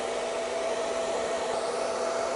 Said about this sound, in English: I'm always going to use my dryer pointing from roots through to ends